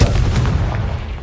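Explosive Confringo blasting spell from Hogwarts Legacy, a heavy booming burst with deep rumbling low end that rolls on without pause through the whole moment, loud and close.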